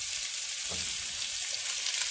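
One chopped onion sautés in a pan for a Velveeta cheese dip. There is a continuous, even sizzle and one soft stirring bump, with no talking.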